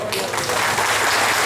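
Loud congregation applause for Jesus at a Catholic evangelization and healing mission, a brief dense burst of many hands clapping close and full.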